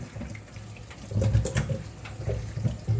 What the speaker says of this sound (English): So I'm washing them with some hot water.